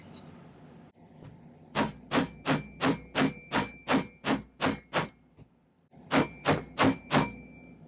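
Hammer blows on a silver ring being curved for a brutalist overlap design ring, a quick even run of about ten sharp metallic strikes, then a short pause and four more, close up.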